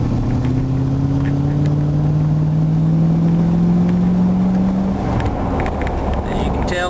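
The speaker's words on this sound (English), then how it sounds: "I'm going to give a little bit of gas here once we get to the straightaway." 1975 Corvette Stingray with a Chevy 350 engine accelerating on a straightaway, a loud, close V8 whose pitch climbs steadily for several seconds before the throttle lifts.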